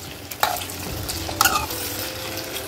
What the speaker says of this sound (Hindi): इसको हम थोड़ा सा फ्राई करेंगे ताकि कच्चा कच्चा जो टेस्ट है आलूओं का वो हट जाए।